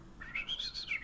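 Bird chirp sound effect from the card video game Magic: The Gathering, a short bright trilling tweet of several rapid rising and falling notes, clear and alone.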